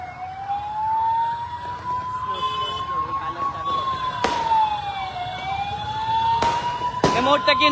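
Fireworks burst at a street welcome for a cricketer in Siliguri: three or four sharp, loud cracks ring out over a continuous wailing siren and crowd noise, with voices talking throughout.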